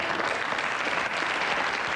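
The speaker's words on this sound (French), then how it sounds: "si vous pouvez les applaudir, s'il vous plaît" A studio audience at a French television entertainment show applauds loudly and steadily, a dense wash of many hands clapping together throughout with no break.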